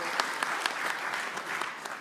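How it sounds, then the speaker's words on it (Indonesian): Steady applause from an audience at an Indonesian political declaration event for a vice-presidential candidate, with dense clapping and a few sharper individual claps standing out, moderately loud throughout. "Kita berikan tepuk tangan yang meriah."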